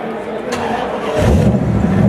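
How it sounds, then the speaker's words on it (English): A 1957 Corvette engine cranks and catches, then settles into a low, steady rumble, with a crowd murmuring in the background at a Mecum auction. "as you heard, there was the start of the engine"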